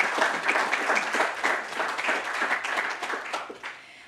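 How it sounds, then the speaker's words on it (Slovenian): An audience at a Slovenian government awards ceremony breaks into applause, many hands clapping in a lively, closely spaced patter that swells and then gradually tapers off near the end. "Jaz mislim, da si to zasluži tudi aplavz."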